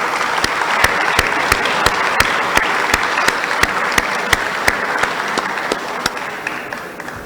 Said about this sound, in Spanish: quisiera pues que le reiteremos un profundo aplauso y reconocimiento